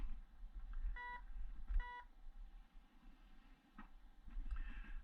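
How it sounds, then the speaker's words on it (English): Metal detector giving two short electronic tone bursts close together, faint and thin over low background rumble, then quieter intermittent blips. "I know you're hearing beeps"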